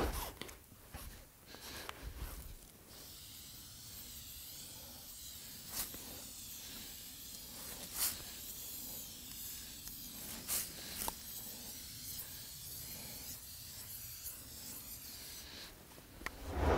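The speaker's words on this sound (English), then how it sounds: "I spend a lot of time spraying down the hood" Silicone spray being applied to a poncho hood, a series of soft hissing spray bursts of varying length, close and fairly quiet, with faint rustling of fabric between them.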